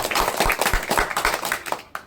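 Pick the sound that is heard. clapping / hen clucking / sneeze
clapping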